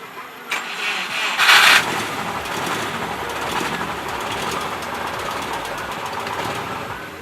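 A struggling car engine sputters and revs unevenly, with a sharp burst of noise early on, then rough running that wavers as it is kept alive. Voices are faintly audible at times.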